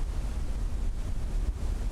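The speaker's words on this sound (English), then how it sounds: "That's a waterfall." Waterfall in the video game Blue Prince, a steady broadband rushing roar with no breaks, fairly loud, with no voices.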